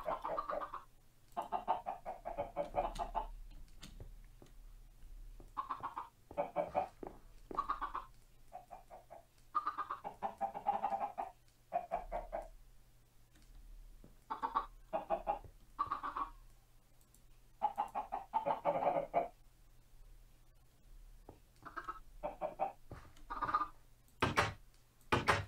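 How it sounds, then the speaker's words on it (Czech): Hens clucking near a coop, frequent close bursts of clucking and brief squawks separated by short quiet gaps, with a faint low hum and a few sharp knocks. "Sem slepičky."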